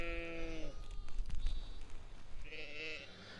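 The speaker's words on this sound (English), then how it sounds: "There's Aberfield ewes out here with Suffolk Cross lambs." Aberfield ewes and Suffolk Cross lambs bleat in an open farm field, several overlapping calls near and clear, with a lull of field noise between bleats.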